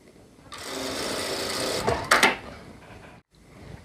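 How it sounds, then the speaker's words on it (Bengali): A sewing machine stitches fabric for half pants, a close, steady mechanical whir lasting a few seconds with brief louder clatters near its end before it stops abruptly. "মেশিনের ফিটটা উঁচা করার পর আপনারা এই কাপড়টা এইভাবে ধরে এদিকে সেলাইটা দিয়ে দিবেন"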